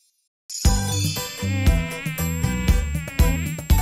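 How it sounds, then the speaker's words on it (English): A cartoon mosquito buzzing sound effect in a kids' bug song, a high whining tone layered with tinkling, bouncy music that starts abruptly after a brief silence. "a mosquito. I bite and drink."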